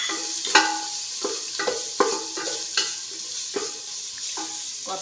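Fried prawns being stirred into masala in a pan, a soft sizzle under repeated scraping strokes of a spoon at an uneven rhythm, fairly quiet and close.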